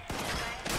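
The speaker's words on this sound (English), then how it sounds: "We're getting shot at." Two quick bursts of gunfire crack out in Fallout 76, close and sharp, within under a second.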